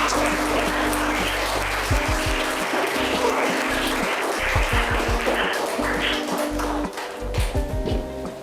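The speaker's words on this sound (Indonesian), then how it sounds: "Mari kita sambut kelompok 1B dengan tepuk tangan yang meriah." An audience at a school event claps loudly for a student group, the applause steady and sustained throughout with no talk over it.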